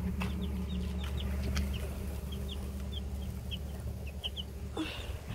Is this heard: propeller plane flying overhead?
no